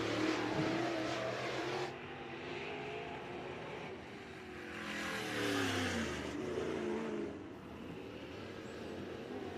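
Late model race cars lap Clarksville's track during a timed Toilet Bowl Classic Plunger Night session, engines droning steadily, with one car's revving pitch rising and falling as it sweeps past midway.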